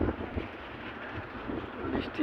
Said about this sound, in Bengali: বাতাসও অনেক, প্লাস বৃষ্টি অনেক।